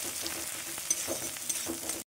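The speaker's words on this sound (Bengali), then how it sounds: "পেঁয়াজটা একটু লাল লাল করে ভেজে নেব।" Onions fry in refined oil for a Maggi fry snack, a soft, even sizzle with a few small pops and a stirring clink before it cuts off abruptly.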